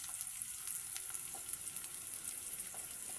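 Onions sizzle in hot oil in a home kitchen as ginger-garlic paste is added, a steady close crackling fry with faint stirring clicks throughout, no voices.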